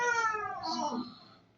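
A cat gives one drawn-out meow, close and fairly loud, with a wavering rising-then-falling pitch that fades out at the end.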